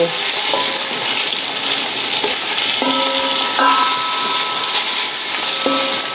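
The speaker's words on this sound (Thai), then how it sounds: "ผัดไปเรื่อย ๆ นะคะ เพราะว่าเราต้องการให้เนื้อหมูสามชั้นนะคะ ผิวด้านนอกเนี่ย เคลียมแค่สักเล็กน้อยนะคะ" Pork belly stir-fries in a large pot with a loud, steady sizzle and hiss, and a few brief clinks from a utensil against the pot.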